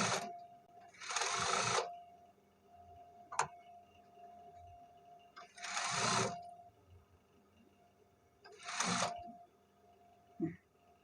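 Sewing machine stitching a back-split garment neckline, running in three bursts of about a second each separated by pauses, with a faint steady hum and small clicks in between.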